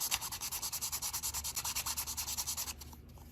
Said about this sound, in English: I'm going to go ahead and sand that just a wee bit more like so.